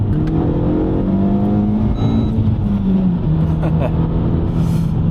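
A Renault Megane RS (3rd generation) engine rising in pitch as it accelerates hard, a steady droning roar from inside the cabin with faint chatter over it.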